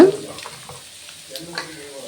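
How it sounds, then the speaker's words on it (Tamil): Soft sizzling from a pan as ground masala is fried for tomato kuzhambu, with occasional scraping as it is stirred, close by and fairly quiet. "இது கூட நம்ம அரைச்சி வச்சுருக்க மசாலாவை ஊற்றிக்கலாங்க"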